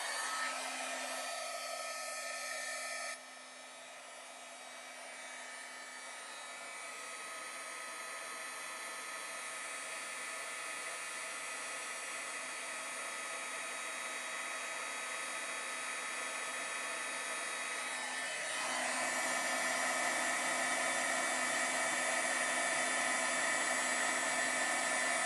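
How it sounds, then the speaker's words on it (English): An embossing heat gun runs in a continuous loud whirring blow, with a brief dip early on, then a slow steady rise and a stronger surge near the end, alone with no talk. "I am going to actually use an embossing gun, so it's going to be loud for a second"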